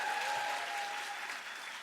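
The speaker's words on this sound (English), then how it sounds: "I'd like to start by asking you all to give a smattering of applause to our host, Roisin." A crowd at a music awards ceremony claps steadily, a dense, even wash of applause that continues throughout with no break and tapers off slightly at the end.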